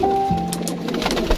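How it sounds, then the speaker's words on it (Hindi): Pigeons coo softly nearby, a few low throaty calls rising and falling against faint background noise. "बाकी आप देख रहे हैं मेरे कबूतर"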